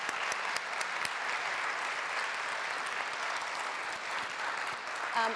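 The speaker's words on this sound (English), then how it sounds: "Yes, round of applause." A university auditorium audience at a foreign-policy election forum gives a sustained round of applause, dense continuous clapping from many people, moderately distant and even in level, ending with a short brighter burst.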